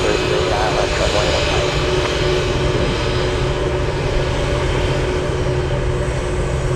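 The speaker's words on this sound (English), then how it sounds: "We have a 747 UPS." A UPS Boeing 747 cargo jet lands at Anchorage on runway 15 in gusty wind, its engines giving a steady, loud, broadband roar with a sustained tonal whine throughout, wind noise mixed in.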